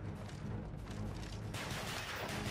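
Bursts of Call of Duty: Black Ops gunfire in Gun Game mode, a few rapid shots in quick succession, fairly muffled, with no talking.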